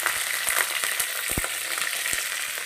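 Curry with fried lentil dumplings bubbles and fries in a pan, a steady close sizzling hiss dotted with small pops and soft knocks, no voices.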